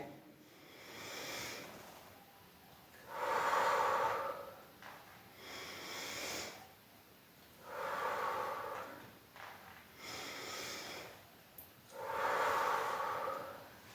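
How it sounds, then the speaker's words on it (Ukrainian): Children do a breathing exercise, drawing air in through the nose and blowing it out through the mouth, in four slow, evenly spaced breathy surges with quieter pauses between, heard without talk. "вдихаємо носиком, видихаємо ротиком"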